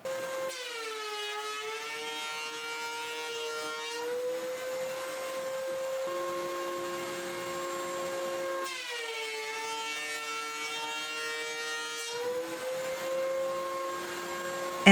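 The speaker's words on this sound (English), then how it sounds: "it's time to run it through the planer" A thickness planer takes two passes over a wooden piece for a whiskey dispenser. Each pass brings a loud rising whine as the blades bite, then a steady high whir before it drops off again.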